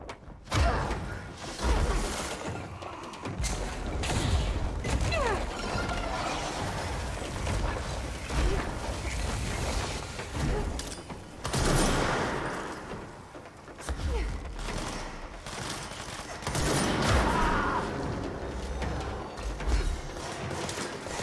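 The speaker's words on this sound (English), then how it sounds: "What the fuck is shooting me?" Gunfire and explosions from a video game fill the scene, with bursts, booms and whooshing mechanical noise that go on throughout at steady loudness, mixed with other in-game sounds.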